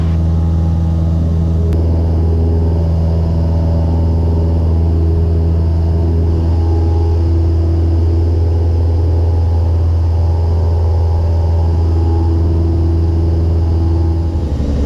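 A small training airplane climbs and banks on a discovery flight out of Addison, Texas, its cabin filled with a loud, unbroken propeller-engine drone and steady low harmonic hum, with no talking.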